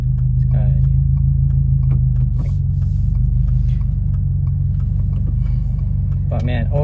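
Interior of a Subaru WRX VB driving on the road, with a steady low engine and road rumble throughout and a slight shift in pitch partway through; brief bits of distant talk sit above the drone.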